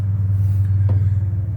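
An old truck engine, cold and without a choke, idles with a loud, steady low rumble throughout, close by, with one brief sharper knock partway through.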